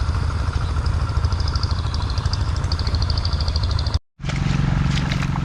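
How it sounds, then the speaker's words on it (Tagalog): A noisy engine drives an irrigation water pump in a farm field, droning loud and steady up close. It drops out briefly near the end, then picks back up with the same rough hum. "Pasensya na kayo, maingay yung makina"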